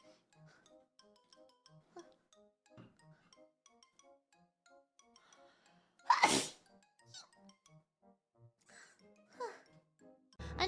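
A sharp, loud, close single sneeze from a person bursts out at about the middle of the clip, between quiet scattered voice sounds and a later smaller burst.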